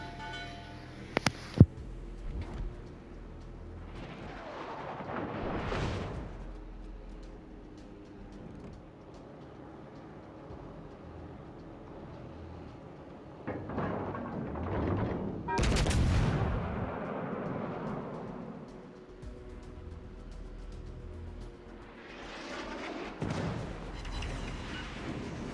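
Battleship 13.5-inch guns firing in World of Warships Legends: a sharp crack near the start, then several heavy booming salvos with rumbling tails spread across the stretch.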